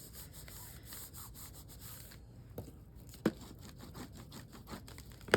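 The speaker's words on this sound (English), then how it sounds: "Give it a good burnish." A paper craft edge burnished by hand, soft dry rubbing strokes repeated in quick rhythm, close and quiet, with a couple of light taps.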